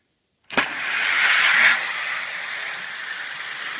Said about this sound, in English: as we race them down the track